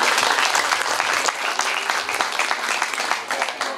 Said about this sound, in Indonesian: Tepuk tangan buat Muslim.